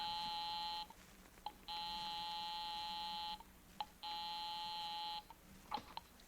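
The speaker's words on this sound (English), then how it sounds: "I'll give 9B a ring first on the house phone." A house phone in a 1949 radio suspense drama gives three long, even buzzing tones separated by short pauses. The tones are quiet and steady, with faint clicks between them and no voices.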